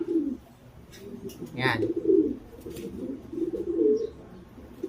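A black-and-white tiger grizzle homing pigeon cock at a breeder's loft gives soft, repeated low coos close by, with a brief higher call in the middle and someone speaking briefly over it.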